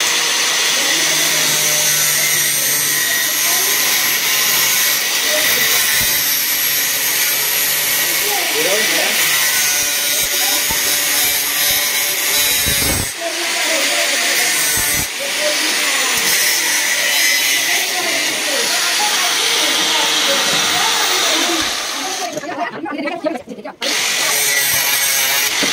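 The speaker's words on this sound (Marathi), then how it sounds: "ग्राइंडर मशीन आहे." A grinder machine runs loud and continuous with a dense, harsh whine, dipping briefly a few times before resuming, while people talk under the noise.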